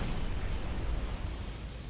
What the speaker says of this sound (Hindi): एक धमाका हुआ